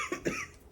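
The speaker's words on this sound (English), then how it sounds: "think this is getting me coughing" A single short, faint cough from an adult doing indoor plant chores, staking philodendrons, with no other sound.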